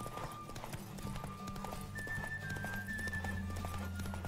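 Rhythmic clip-clop of horse hooves trotting in The Witcher 3, fairly quiet, over a steady low background hum with a faint tonal whine.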